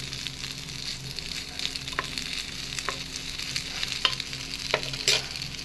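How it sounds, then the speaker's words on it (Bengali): Soybean chunks fry and sizzle in a pan, with a steady hiss of oil broken by sharp clicks and scrapes of a spoon turning them, close and continuous. "এইভাবে আমি সমস্তগুলো ভেজে নেব"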